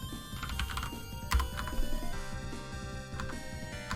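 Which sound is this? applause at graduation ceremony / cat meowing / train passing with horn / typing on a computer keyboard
typing on a computer keyboard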